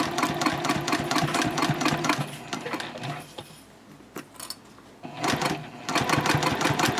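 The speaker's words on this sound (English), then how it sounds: "I'm just going to go for the permanent stitch right now, and I will do a little bit of back stitch here" Sewing machine stitching through thick, bulky layers of a bowler-style bag, running in fast steady bursts with a pause in the middle, close and loud, alone without talk.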